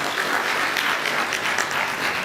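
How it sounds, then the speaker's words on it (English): Steady audience applause fills the room at a university debate event, a dense continuous patter of clapping hands lasting a couple of seconds without pause. "Let us clap for her."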